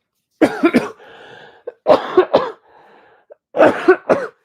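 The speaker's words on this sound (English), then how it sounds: "This cough. It's terrible." Three bursts of harsh, close coughing, each a quick double or triple hack, separated by short wheezy breaths.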